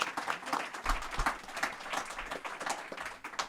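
A business export conference audience claps in a dense, steady round of applause at moderate distance, continuing through the whole stretch without talk.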